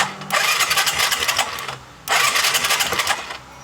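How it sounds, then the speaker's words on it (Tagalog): A Skydrive 125 motorcycle engine turning over during a push-start attempt, two bursts of rapid sputtering, cranking chatter separated by a short pause, close and fairly loud. "Try ko i-push start."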